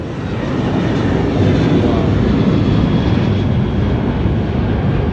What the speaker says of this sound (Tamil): பக்கத்தில் ஃப்ளைட்டு போகுது.